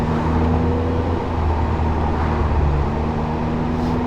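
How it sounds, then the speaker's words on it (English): Modified Hyundai Genesis daily driver with its engine and exhaust running, a loud, steady low rumble with sustained humming tones throughout and no talking. "I can't get enough of the sound of this car. Like, yeah, it does sound very good."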